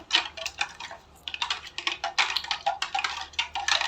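Homemade condensed milk stirred into raw mango juice in a jug, with a fast, steady clinking and scraping of a spoon against the container that pauses briefly once and then continues, close and fairly loud.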